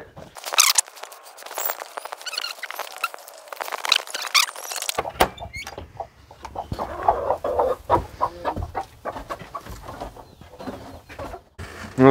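A broody hen clucks and squeals near her coop in repeated short bursts, with other fowl calling nearby; the calls are close and fairly loud, and a few soft voices come in faintly.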